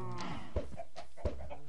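Chickens in the Minecraft video game cluck in short, soft calls, with two sharp taps in the game audio and no voices.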